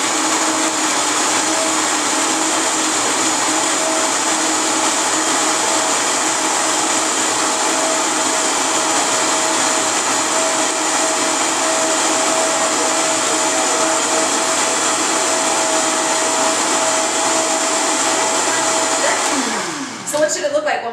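A blender pulverizes nuts into a paste for raw nut milk, giving a loud, steady whirring roar that holds unbroken for about twenty seconds before it cuts off abruptly.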